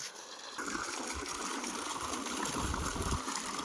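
Water flows through a farm field, a steady close rushing and gurgling wash that continues without a break, with no talking.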